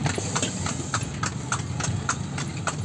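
An old horse's hooves clip-clop in a steady, even rhythm as it pulls a kalesa carriage through a heritage town, with a low background hum underneath.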